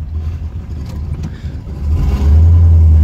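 A Chevrolet Corvette Stingray with a manual gearbox revs its engine close by, a deep rumble that swells and holds loud toward the end.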